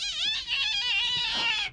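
A person vocally imitates a crazy cat, producing a continuous high, wavering yowl with rising and falling pitch that lasts under two seconds and is heard alone at close range.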